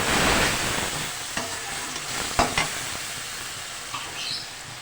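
Daal channa fries in hot oil with turmeric, ground coriander and red chili, a steady close sizzle and hiss, with a few soft spoon taps and stirring scrapes.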